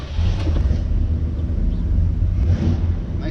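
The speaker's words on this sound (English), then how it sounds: "nice burble to it, nice sound with those exhausts" A 1971 Oldsmobile Cutlass convertible rumbles with a steady low exhaust burble, close and fairly loud, mixed with some wind buffeting.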